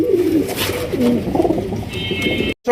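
Several pigeons coo nearby in low, rolling throaty calls that repeat and overlap, with faint background murmur and a brief cutoff near the end.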